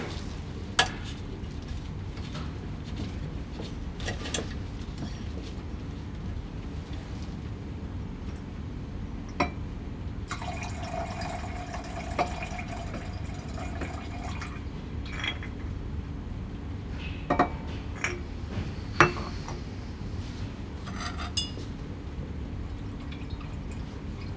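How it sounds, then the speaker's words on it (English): Reaction mixture poured into water in an agrochemical research lab while making a weed killer: faint trickling and dripping liquid with small clinks of glassware, a brief burst of pouring splash in the middle, no talk. "he pours the reaction mixture into water to dissolve out any water-soluble impurities"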